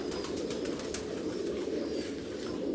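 Pigeon cooing on a rooftop, a soft, steady low murmur of coos close by with no voices.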